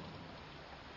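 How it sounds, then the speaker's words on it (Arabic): Steady rain falling on a surface, a dense continuous hiss with no pauses, close and even throughout. "مطر"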